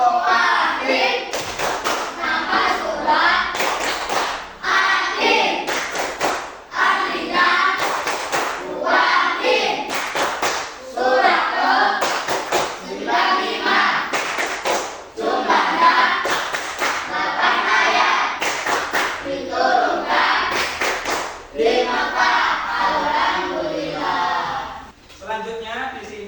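A primary school class performs a rhythmic clapping chant together, sharp repeated hand claps in patterned bursts mixed with children's chanting voices, continuing steadily with short pauses between phrases.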